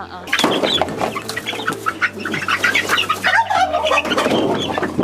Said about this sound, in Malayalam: ഇത് ഒറിജിനൽ ആണ് ഒറിജിനൽ കരിങ്കോഴി കുട്ടികളാണ്